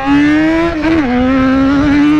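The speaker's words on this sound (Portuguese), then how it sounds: "vamos pegar a XJ e vamos dar um acelero louco" A Yamaha XJ motorcycle revving hard in a video game, a loud, steady, buzzy engine drone held high with a brief dip and recovery in pitch as the throttle shifts.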